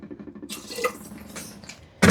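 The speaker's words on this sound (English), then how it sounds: "I'm going to put just a splash of vinegar" A splash of vinegar poured into about two inches of water in a canner: a soft, low liquid trickle, then a brief louder splash at the very end.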